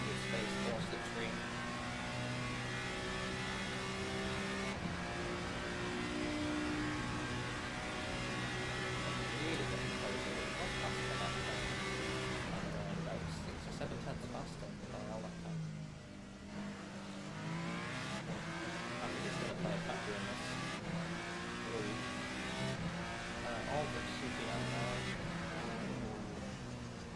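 Racing cars, both prototypes and GT cars, drone past on the final straight at Fuji during a two-hour endurance race. Sustained engine tones rise and fall, and a commentator talks over them throughout.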